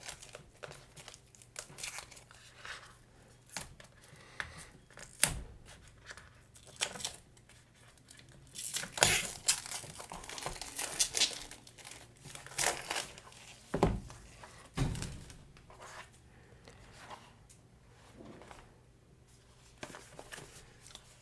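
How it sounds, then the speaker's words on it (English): Plastic film crackling and crinkling as it is peeled off a DJI Osmo Action 5 Pro box, with irregular close rustles, tears and a few sharper crunches over about twenty seconds, no talking. "Let's get rid of this plastic film first."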